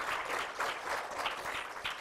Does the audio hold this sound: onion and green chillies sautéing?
no